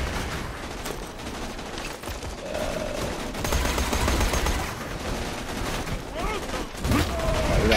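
Bursts of gunfire from the video game Borderlands 2 come in rapid clusters over a busy game soundscape, loud and repeated across the stretch, with a player's voice audible at times.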